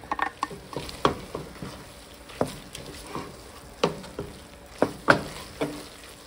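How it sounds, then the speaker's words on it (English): Rice poured into a pan of sizzling chorizo meat mixture for chili, with a soft frying patter and scattered sharp stirring scrapes and clatters at close range, no talking. "I'm going to go ahead and add my rice to my meat mixture"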